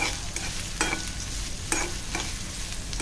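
Chopped onion frying in oil for a Malvani mutton curry, with a steady sizzle broken by a few sharp bursts as a spoon stirs it in the pan, close and alone with no talk.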